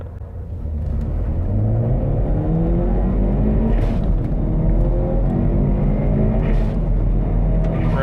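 A Ford Focus ST launching from a standstill on launch control held at 2500 rpm, the engine note climbing steadily through the revs as the car pulls hard, loud and close with a heavy rumble throughout.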